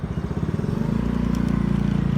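Close Yamaha NMAX scooter engine on a Manila road, a low pulsing putter that rises in pitch and smooths into a steady, louder drone as it revs.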